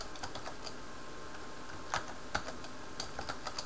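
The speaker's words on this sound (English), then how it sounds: "Apparently I can't type the first S." Quick, light keystrokes tap on a computer keyboard at close range, irregular and fairly quiet, with a few sharper clacks standing out and no talking.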